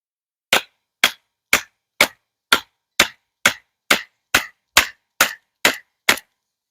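A baton stick strikes the spine of a 4.75 inch straight razor knife as it splits wood, giving twelve sharp, evenly spaced wooden knocks, close and loud, with no talking.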